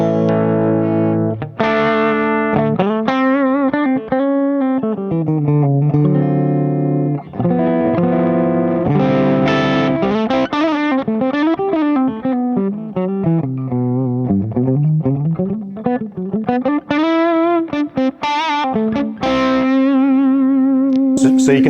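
A distorted electric guitar runs through the Laney Ironheart Loudpedal on its asymmetrical clipping channel, playing a busy run of chords and melodic lines, loud and close, with talk over parts of it.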